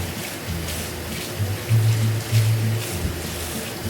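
Cactus peeling is rinsed under a running tap, a steady broadband splash that swells with louder gushes as the pieces move through the stream.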